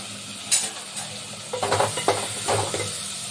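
Sautéing in a pan with rock salt added, close clattering scrapes of a spatula over a soft sizzle in short bursts.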